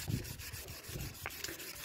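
Sandpaper rubs on a wheel rim in a close, steady rasp of short back-and-forth strokes, with no voices over it.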